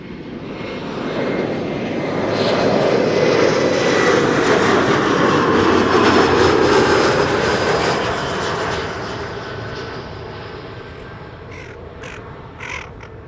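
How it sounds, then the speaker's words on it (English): An Embraer 175 jet airliner from Milan arrives at Schiphol Airport, its engine roar swelling to a loud, steady rush and then easing away, with crows cawing faintly near the end. "Embraer 175 arriving from Milan up next."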